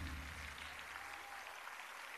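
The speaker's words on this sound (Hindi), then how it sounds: "लगातार तालियों के माध्यम से अभिनंदन, वंदन, स्वागत" Sustained applause from an audience at a World Disability Day event in India attended by Chief Minister Yogi Adityanath, a steady dense wash of clapping with no gaps throughout.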